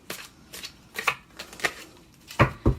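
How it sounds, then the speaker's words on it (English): Tarot cards being shuffled by hand, a series of crisp riffling bursts roughly every half second, close and fairly quiet, ending with two louder slaps of the deck. "I shuffle the cards."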